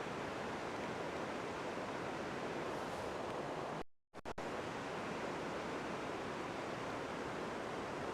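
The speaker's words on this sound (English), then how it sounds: "The sound of the rushing river, really relaxing." Rushing river below a bridge near Minakami in Gunma, a loud, constant roar of churning water heard alone, briefly cut out for an instant midway before resuming unchanged.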